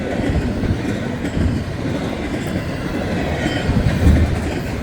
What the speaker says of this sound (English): Look at this giant intermodal train.